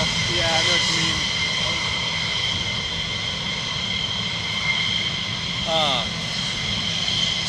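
Loud whining roar of military jets taxiing at RAF Lakenheath, a sustained high engine tone with a rising whistle near the end, close by and steady.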